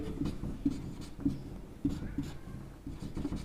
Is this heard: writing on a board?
yes